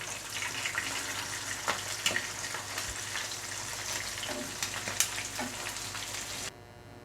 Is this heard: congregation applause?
no